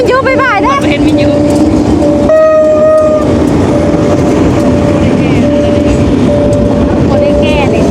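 A single train passes close by near a busy market, its wheels clattering continuously with drawn-out horn blasts, loud and near, while people talk over it.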